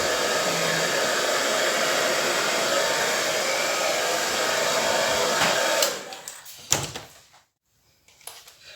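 A hair dryer blows steadily and loudly for several seconds over an acrylic pour painting, then cuts off, followed by a few knocks and clunks of handling before near silence.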